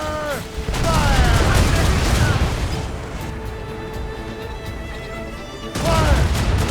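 A naval cannon volley from Assassin's Creed Rogue: a sustained barrage of booming shots from a sailing ship, loud and close, dipping in the middle and then surging again near the end, mixed with shouted commands.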